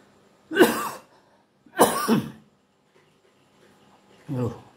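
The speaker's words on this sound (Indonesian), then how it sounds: "Batuk." Three separate coughs come close up, two in quick succession, then a pause before a softer third.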